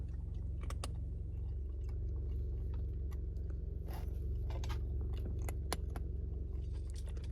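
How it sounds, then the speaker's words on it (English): A cat chewing its food up close, a run of sharp crunchy bites and clicks scattered irregularly over a low steady hum, faint and without any talking. "That's the cat chewing his food."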